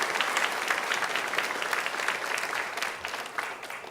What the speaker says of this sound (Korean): 우리는 박수로 감사의 마음을 하나님께 드리도록 하겠습니다. 박수하겠습니다.